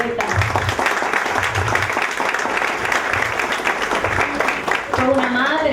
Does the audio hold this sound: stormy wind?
no